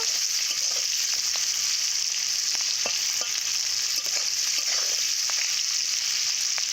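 Thin-cut potato sticks frying in hot oil with no spices, a steady dense sizzle throughout with faint stirring clicks, no voices.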